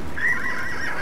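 A horse in the video game Oblivion gives a short whinnying neigh, clear and fairly close, with a faint clip-clop of hooves underneath.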